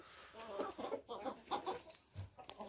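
Chickens cluck quietly at close range in a string of short, bursty calls, one after another, with a rustle between them.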